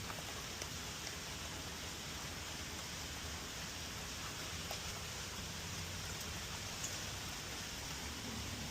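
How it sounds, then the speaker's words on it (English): Steady rain falling outdoors, a faint, even hiss of drops continuing without pause and without talk. "And it's been raining for a while."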